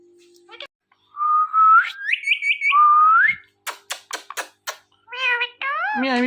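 A talking parrot imitates a cat's meow in drawn-out whistled tones, then gives a series of short sharp clicks and more rising whistles, close and clear against silence.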